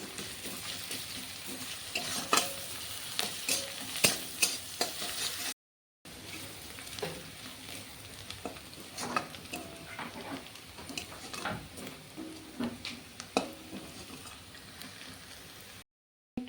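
Chopped onions sizzle and crackle with garlic paste in a pan, stirred with quick scraping strokes; the frying is soft and steady, with two brief gaps.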